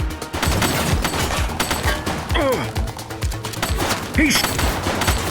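Gunfire fills a scene in the police video game The Precinct: dense, rapid bursts and single shots in a loud, continuous fusillade, with brief spoken remarks over it.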